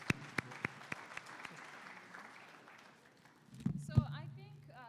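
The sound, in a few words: applause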